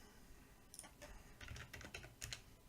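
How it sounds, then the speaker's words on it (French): Keys on a computer keyboard tapped in short bursts and soft clusters of clicks, fairly close and light, with no voices over the typing. "Je vais essayer de taper moins fort sur le clavier aussi."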